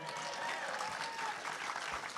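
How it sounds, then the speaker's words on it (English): An audience claps and cheers at a Q&A after a film screening, a dense, steady wash of applause from a full room that holds at an even level throughout. "I want to hear the applause."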